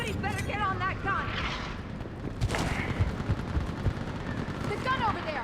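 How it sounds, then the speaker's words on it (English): A mounted gun fires in bursts during a battle in Mass Effect 3's fall of Thessia, with loud booming shots and blasts over game voices shouting orders. "Get on that gun up there and do some damage!"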